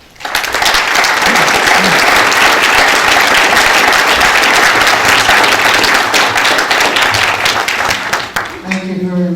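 A conference audience applauds a keynote speaker, with dense, steady clapping filling the room at close range almost throughout before it tapers at the very end.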